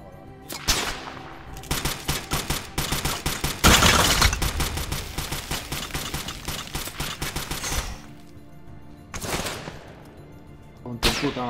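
Rapid bursts of automatic gunfire in the video game ARMA 3 during a night training mission, loud and close, with sustained volleys and a few separate sharp shots near the end.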